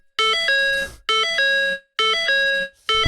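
A Ford vehicle's warning chime sounds three times in a row, each a bright multi-tone electronic chime lasting under a second, clear and close, with short silent gaps between and no talking.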